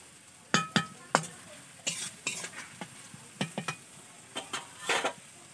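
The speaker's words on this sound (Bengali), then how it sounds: "একটু নাড়িয়ে দেবো আবার পেঁয়াজটাকে এবারে লাল লাল করে ভাজতে হবে" Onions fried in a pan on a home stove are stirred in a series of distinct scraping strokes, close and clear, over a faint steady sizzle with no talking.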